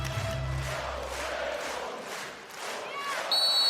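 A volleyball crowd at a women's Nations League match between Italy and Poland sings along in a large arena, a broad rhythmic swell of many voices with pulsing chants, steady and moderately loud throughout.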